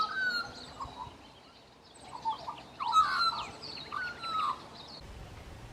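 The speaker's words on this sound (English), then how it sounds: "Magpies have a glorious song." Australian magpies carol in bushland, a series of warbling, fluting phrases with rising and falling glides, several bursts in quick succession, clear and moderately close against a quiet background.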